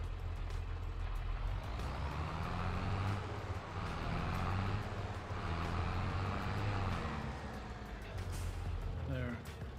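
A large truck in the farming game Farming Simulator 22 idles and reverses with a constant low diesel rumble, joined near the end by faint reversing beeps, while a person talks over it.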